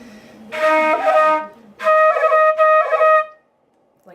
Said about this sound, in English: a lot of flute players play crans, which is a type of ornamentation borrowed from the pipes